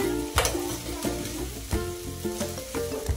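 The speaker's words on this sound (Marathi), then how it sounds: "साबुदाणा घातलेला आहे, आता तो व्यवस्थित परतायचा" Sago pearls stir-fried in a pan, a continuous sizzle with repeated scraping strokes of a spoon against the pan, fairly close, with a steady low hum underneath.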